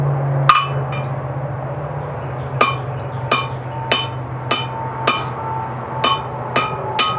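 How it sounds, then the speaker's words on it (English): A hammer forges a nail on a Viking-style nail header, with light, subdued blows ringing on metal at a steady pace, about ten clear strikes over a low background hum, close and without talk. "A little more subdued hammering,"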